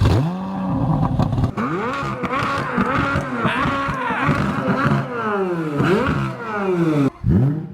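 A sports car engine, a 4.8-liter V10 Lexus LFA or a 5.5-liter V8 Corvette Z06, revs repeatedly and loudly up close, pitch climbing and falling in quick sweeps with a brief cut near the end.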